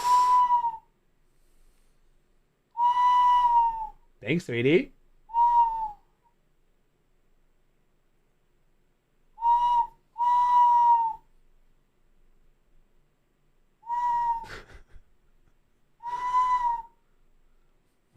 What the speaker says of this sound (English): It's a bird whistle. It's meant to sound like a bird.